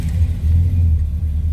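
A 1981 Chevrolet El Camino SS tribute engine idles close by, a steady, even low rumble with no one talking.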